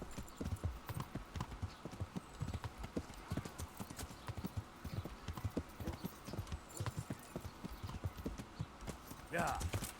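Steady clip-clop of horse hooves trotting along in the video game Kingdom Come: Deliverance, with a voice talking over it and a brief whinny near the end.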